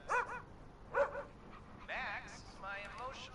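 Max, a rescue dog in the game Killer Frequency, gives a few short yips and barks in quick bursts, up close and mixed with whimpering sounds.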